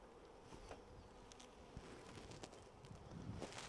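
Honey bees buzzing softly around beehive frames during an inspection, a faint continuous hum with occasional rustling and handling noises close by.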